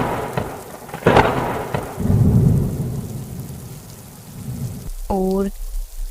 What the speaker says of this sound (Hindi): उसी समय जोर से बिजली कड़कती है।